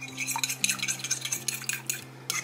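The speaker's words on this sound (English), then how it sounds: "I'm just going to kind of whisk this up." Egg yolks and a whole egg being whisked in a bowl for Southern banana pudding, quick uneven scraping and tapping strokes close by over a steady low background hum.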